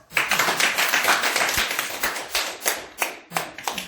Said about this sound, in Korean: , 그럼 박수 1000번.